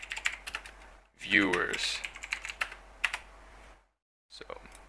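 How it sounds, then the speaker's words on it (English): Typing on a computer keyboard for a Java console program, close and moderately loud, with bursts of key clicks between pauses and a speaking voice over part of it. "So I'll just type in hello"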